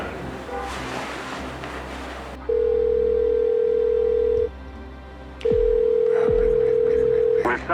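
A telephone line sounds a long steady tone, stops, then sounds again, with no answer between, following a stretch of muffled background noise at the start.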